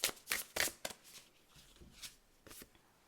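Astrology cards being shuffled by hand, several quick riffling bursts in a row close to the listener, then softer intermittent card flicks.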